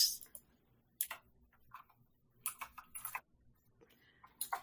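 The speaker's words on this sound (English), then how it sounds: "That's an aggressive typing if you're going to do that, Michael." Sharp, aggressive keyboard typing heard close and fairly quiet, in irregular bursts of clacking keystrokes separated by short silent gaps.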